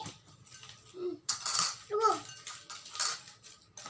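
Crunchy nachos bhel is tossed in a bowl, with clinking spoon scrapes and crisp rustling in short bursts while a voice talks quietly in the background.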